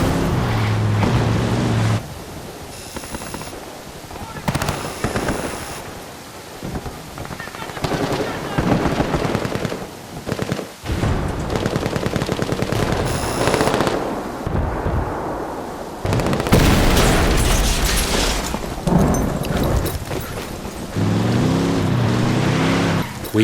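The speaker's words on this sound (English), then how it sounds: "And to provide further disruption, we blow that C4 we placed earlier." In Ghost Recon Wildlands, a C4 charge detonates amid a gunfight between rebels and cartel fighters: heavy booms and bursts of automatic gunfire crackle over a continuous roar, loud and dense throughout.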